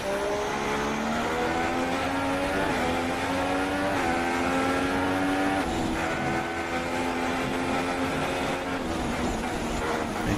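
McLaren Formula 1 race car in the Malaysia round, engine note rising and shifting through gears in a continuous loud whine, with harmonics stepping up and dropping as it accelerates and recovers energy.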